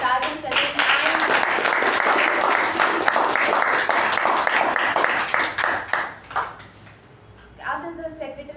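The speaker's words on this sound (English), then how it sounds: "let's have a huge round of applause" A crowd at a meeting claps in sustained applause for several seconds, tapering off near the end as a voice begins speaking.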